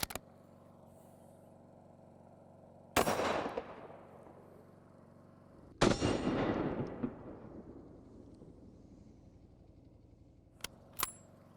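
.270 Weatherby rifle bullets strike a steel target: two sudden, loud cracks a few seconds apart, each leaving a long ringing decay, with a couple of brief sharp clicks near the end.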